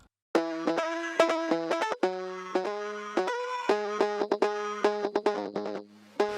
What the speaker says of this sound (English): And that's a digital oscillator from my modular synthesizer.